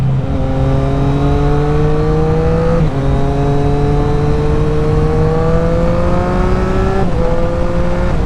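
A loud exhaust on a 2024 Triumph Street Triple RS motorcycle climbs in pitch as it accelerates, dropping briefly at two gear shifts before rising again, with no voices.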